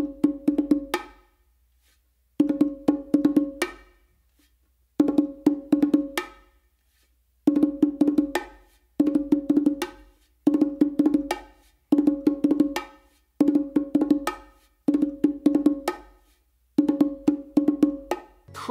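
Bongos play a repeated roll combination finished with an open hit on the macho, about ten short bursts of rapid close strokes separated by brief silences, loud and alone.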